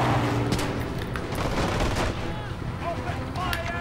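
Pistol gunfire in the PS2 game Medal of Honor: Rising Sun, set in the fall of the Philippines: dense, continuous battle noise with booming shots and explosions. Voices and talk run underneath throughout.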